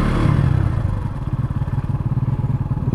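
A warmed-up motorcycle engine idles close by, a loud throaty rumble that settles into a fast, even pulsing beat after a brief initial surge.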